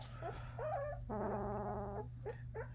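A nine-day-old German Shepherd puppy whimpers and yips in short, close, high-pitched cries, with a longer sustained whine in the middle and a steady low hum underneath.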